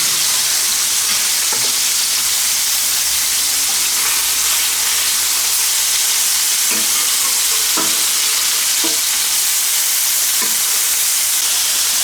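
Hamburger steaks fry in a pan with a steady, dense sizzle throughout, broken by a few sharp clicks and scrapes as the patties are pressed and flipped.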